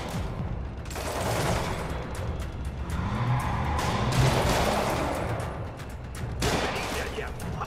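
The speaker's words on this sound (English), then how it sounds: "Demons have opened fire" Bursts of gang gunfire from the Demons in a Marvel's Spider-Man street shootout, rattling shots mixed with vehicle rumble and dense ambient city noise, loud throughout with sharper volleys recurring.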